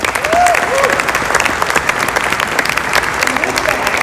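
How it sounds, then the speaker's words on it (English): Audience applause breaks out at the NBA All-Star game event, a dense steady clapping crowd over four seconds with a voice briefly audible near the start. "So could we give a big round of applause?"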